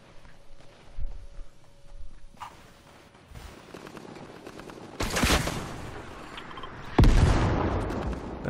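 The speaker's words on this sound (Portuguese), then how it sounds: "Era uma bazuca aqui. Tiro de bazuca." Bazooka fire in Fortnite gameplay: scattered gunfire and footsteps, then two loud blasts with rumbling tails, the last one the heaviest.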